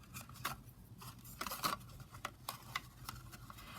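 Scissors trim loose string for handmade policy envelopes, several quiet, crisp snips and small clicks sounding close by in an otherwise still room.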